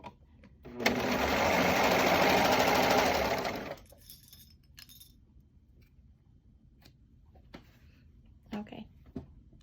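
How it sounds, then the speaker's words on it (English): A serger runs in one loud, even burst of rapid machine whirring for about three seconds while stitching a cloth face mask, then stops, leaving quiet handling clicks and small rustles close by. "we've all finished serging"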